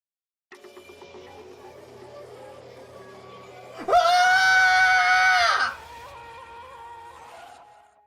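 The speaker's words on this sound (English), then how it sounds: "It took me a second to realize that I was screaming" A single loud, sustained scream bursts out for nearly two seconds, close and piercing, voiced by a character on discovering something horrifying in a bathroom in a Danganronpa fandub, with quieter background sound before and after.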